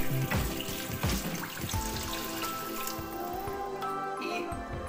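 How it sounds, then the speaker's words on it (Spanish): Water pours from a tap into a pan while lasagna is being made in a home kitchen, a steady splashing trickle with clinks of cookware, loud and close throughout. "Voy a echar un poquitín más de agua."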